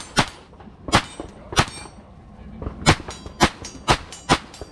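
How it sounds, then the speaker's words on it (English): A Taurus 9mm pistol fires a rapid string of shots at close range, each crack paired with a ringing clang off a steel target on an outdoor range, eight loud evenly spaced impacts with a short pause midway. "then you can do a mag dump on that closed steel"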